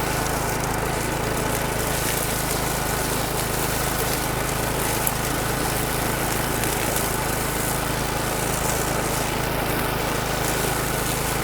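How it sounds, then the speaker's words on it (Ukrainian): A HECHT 5060 EU hay mower engine drones loudly and constantly while cutting tall grass, a dense steady roar of cutting machinery with no pauses. "Як бачимо, косить косарка досить рівно, без будь-яких проблем."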